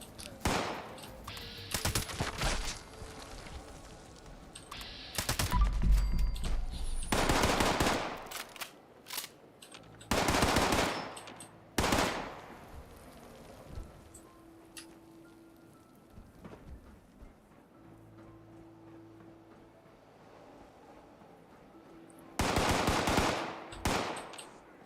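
Gunfire in the video game Fallout 76: several loud, sharp bursts of shots spread across the stretch, with quieter ambient rumble between them.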